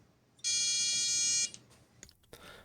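A micro:bit sounds a steady electronic beep tone, one continuous bright buzzing note held for about a second, loud and close, followed by faint clicks and handling noise.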